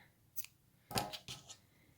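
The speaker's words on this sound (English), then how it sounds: "I am just going to snip my yarn" Scissors snip through yarn at the finish of a crocheted sweater coat collar, giving a few quick, crisp cuts with short pauses between them in a quiet room.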